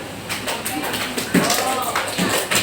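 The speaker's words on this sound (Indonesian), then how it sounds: "ini breaknya cuma tepuk tangan" Sharp, scattered hand claps from a seventh-grade madrasah classroom, irregular rather than in unison. They pop out over a teacher's voice, which talks over them throughout.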